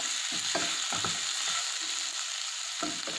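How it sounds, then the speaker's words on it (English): Ingredients for Maggi masala pasta sizzle and crackle steadily in a hot pan, with a few sharp scraping stirs of a utensil near the start, close up and with no voices. "in the meanwhile I'm frying these things."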